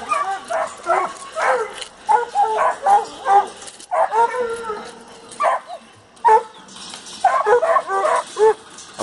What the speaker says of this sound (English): I'm taking my two walker dogs out with me tonight.